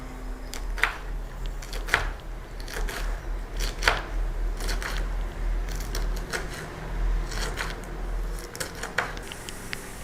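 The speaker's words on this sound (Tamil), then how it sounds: "அவரைக்காய் வெங்காயம்லாம் கட் பண்ணி எடுத்துகிட்டு வந்துட்டேன்." A knife chops broad beans and onions while food is prepared for a Thiruvathirai pooja, giving irregular sharp taps over a low, steady hum.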